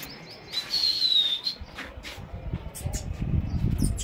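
Fighter pigeons kept on a rooftop give a few faint chirping, whistly calls early on, followed by low rustling and outdoor noise with no speech.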